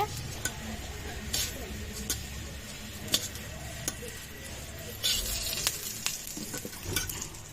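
Eggplant fries in oil with a soft, steady sizzle, punctuated by scattered utensil clicks and taps against the pan, fairly quiet and close.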